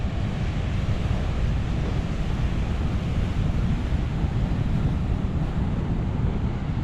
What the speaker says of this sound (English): Some of these waves are pretty decent sized.